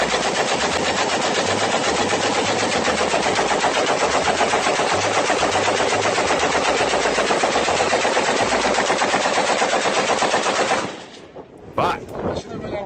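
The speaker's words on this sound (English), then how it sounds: "This is called a runaway gun." A runaway gun firing nonstop in one long, rapid automatic burst of loud, close shots that keeps going for about eleven seconds, then cuts off abruptly, followed by a few faint clicks and handling noises.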